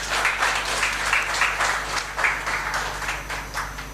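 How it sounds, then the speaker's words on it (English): Audience applause at a startup-ecosystem mentor engagement meet, a steady wash of many hands clapping that holds at a fairly even level for the full length with no talk over it. "I think all of you deserve a very, very big round of applause to start with."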